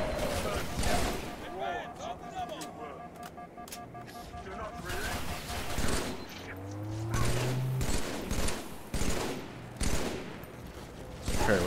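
Gunfire in the video game Halo 3 on Legendary difficulty, with scattered bursts and single shots over busy battle noise, a rising whine and shifting effects mixed in, and people talking over it.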